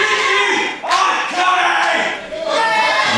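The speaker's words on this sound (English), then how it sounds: "Crowd definitely behind Broderick at this stage." Wrestling crowd at an APW Underground show roars and chants in support of Broderick, a loud, sustained wash of voices rising and falling in waves.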